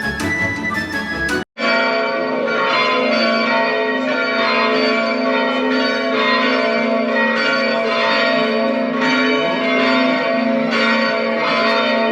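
Church bells in Dubrovnik, Croatia ring loudly and continuously, layered overlapping peals with rich ringing overtones, after a brief burst of other noise at the start.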